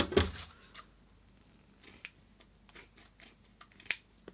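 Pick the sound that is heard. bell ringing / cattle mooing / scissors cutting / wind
scissors cutting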